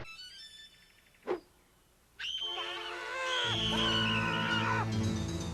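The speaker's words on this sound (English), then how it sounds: "listen to the screams" A sharp scream from the cartoon Dudley the Dragon rings out, then after a pause a long, high wailing scream rises and holds over a low rumbling background.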